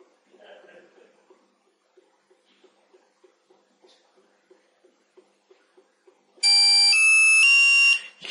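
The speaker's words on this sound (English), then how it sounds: "hold down the left arrow key for a few moments until you hear a beep." A Pidion BI-500 barcode scanner gives a loud electronic power-on beep, a bright multi-tone chirp lasting about two seconds, following a stretch of quiet soft clicking.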